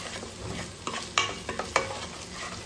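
Kat amti being stirred with jaggery in a pan over a low gas flame, a spoon scraping and sloshing through the simmering liquid with a few sharp clinks against the metal, close and alone.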